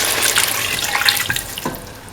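Water pours steadily into a cooking pot for a couple of seconds, a close, continuous splashing stream.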